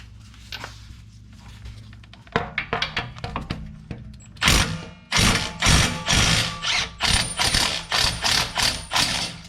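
Milwaukee impact wrench removing a 17 mm nut from a Nissan Versa strut: a few scattered clicks and clunks at first, then a run of loud, rapid, evenly repeating hammering bursts that carry close and steady to the end.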